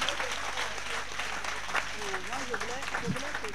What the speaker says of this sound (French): Applaudissez pour les panélistes.